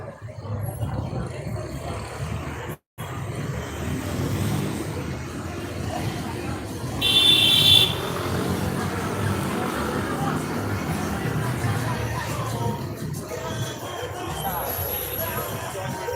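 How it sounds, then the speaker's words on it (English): Busy street traffic in Envigado, Colombia, forms a dense continuous roar of passing vehicles and engines, with a brief louder swell midway and voices faintly mixed into the background. "Crazy mad traffic."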